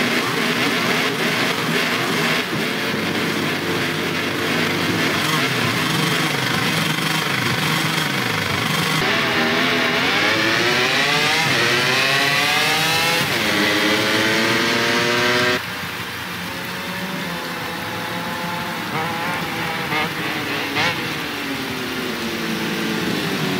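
MotoGP 24 video game race start at the Catalan GP, KTM bike: loud, sustained massed motorcycle engines roar and rise in pitch as riders accelerate away, a steady dense wall of engine noise with no talk.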